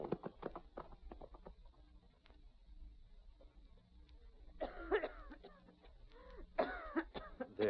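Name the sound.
woman coughing in radio drama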